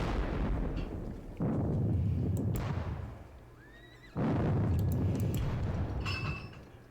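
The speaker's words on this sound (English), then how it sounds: "we are going to kick off with the artillery barrage" Artillery barrage in a Battle of Friedland Napoleonic wargame, two long rumbling cannon volleys of booming blasts, loud and close, with a quieter lull between and a faint horse whinny.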